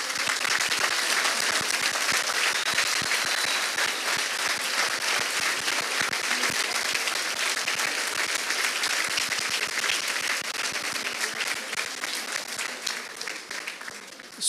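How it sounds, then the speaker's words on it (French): A crowd at a 2024 graduation ceremony for an osteopathic college in Aix-Marseille gives dense, sustained applause, thinning slightly toward the end. "Je crois que vous pouvez tous vous applaudir."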